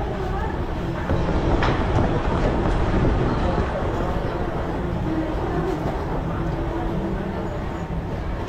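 Dense, continuous rumble and clatter of a railway station at platform 3 in Kolkata, with train noise filling the scene from start to finish.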